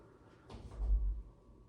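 A newly hung interior door swings shut but fails to close fully, giving a single dull low thud with a short rubbing scrape, close and alone.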